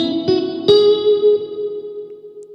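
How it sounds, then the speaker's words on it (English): A Pulsar Primavera spring reverb plugin with excitation at zero processes a played tone, giving a steady sustained note with a soft metallic ring and a gentle wash of spring reverb, a couple of plucked attacks near the start, alone and fairly loud. "I like to look at this as almost how much boing you get from the spring, this kind of sound"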